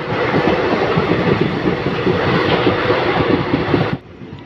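Passenger train from Yeshwanthpur to Pandharpur crossing the bridge over the Tungabhadra river near Harihar, heard from on board as a loud, dense rumble with rhythmic clickety-clack that cuts off abruptly near the end.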